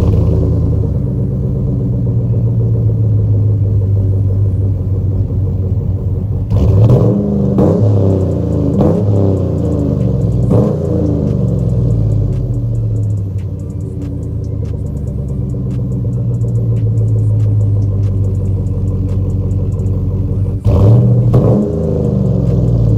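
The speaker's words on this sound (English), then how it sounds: "at least I can give y'all some revs." A 2006 Chevrolet Trailblazer SS idles with a deep, steady rumble, then is revved several times in close succession, each rise and fall loud and near, ending with one more sharp rev.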